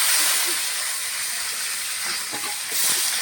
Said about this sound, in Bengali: শাকটা দিয়েছি, ভালো করে ভেজে নেবো।